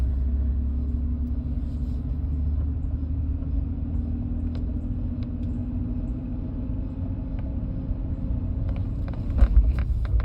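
A car engine rumbles steadily while driving gently, a low constant drone with road noise that is close and unbroken and carries faint clicks near the end. The engine's oil is thought to be dirty, and it feels low on power.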